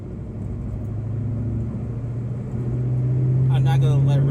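A cold Ford Mustang Mach 1 engine drones steadily while cruising on a freeway, a low, close rumble that swells and rises slightly in pitch toward the end.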